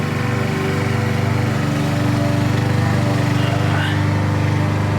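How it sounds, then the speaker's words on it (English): A lawn mower runs steadily outside, its engine a continuous droning hum with a fairly loud, even level throughout and no pauses. "There's a mower going outside."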